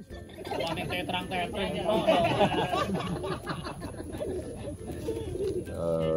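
Racing pigeons coo in a dense, continuous murmur of overlapping calls, with a voice or two mixed into the steady flock noise.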